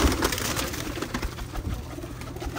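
Soft cooing of pigeons with rustling and faint background noise, a few low murmured calls close by.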